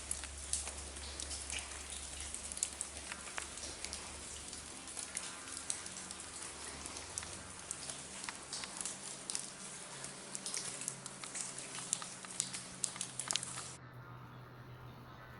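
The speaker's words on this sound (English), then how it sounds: "Sounds like an actual rainstorm when you're sitting on your porch." Water drips and patters steadily inside an abandoned Pennsylvania anthracite coal mine, sounding like continuous rain on a surface, dense and fairly close, with no voices.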